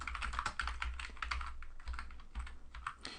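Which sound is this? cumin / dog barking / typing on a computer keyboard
typing on a computer keyboard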